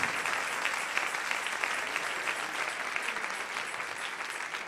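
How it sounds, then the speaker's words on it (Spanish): Church congregation clapping during a Spanish-language worship service, a steady, full round of applause from a large crowd that holds at an even level throughout, with no speech over it. "Denle ese aplauso al Rey."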